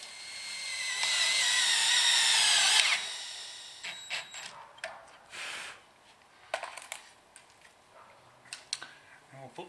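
A power drill driving self-drilling screws whirs steadily for about two seconds, then winds down; afterward come scattered clicks, taps and handling noises.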